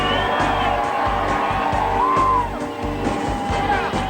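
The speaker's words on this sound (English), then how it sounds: "So how will the crowd greet this victory by this teenager?" A grandstand crowd at Salem Speedway greets a teenager's USAC midget car race win with loud, sustained cheering and whoops, a dense roar from start to finish with an engine-like drone beneath.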